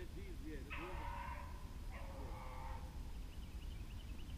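Beagles running a rabbit on a Virginia hunt give out a few yelping, howling barks at middle distance, spaced over a few seconds against a steady outdoor background, with people talking quietly nearby.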